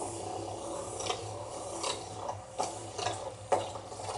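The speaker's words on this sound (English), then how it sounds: "This sander simulates years of Billy Mays damage." A sander rasps against a surface in quick repeated strokes, a steady gritty scraping with a few sharper scrapes, moderately quiet and alone with no voices.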